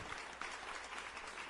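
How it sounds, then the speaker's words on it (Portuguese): A church congregation gives a brief, strong round of applause in praise, dense clapping that fills the short moment evenly. "dê um aplauso bem forte de louvor ao Senhor nessa noite"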